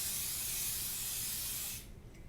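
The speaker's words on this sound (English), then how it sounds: "Next, we wanna spray a little oil on top of our dough." Oil sprays from a can onto challah dough in one steady hissing burst lasting nearly two seconds, then cuts off abruptly into quiet.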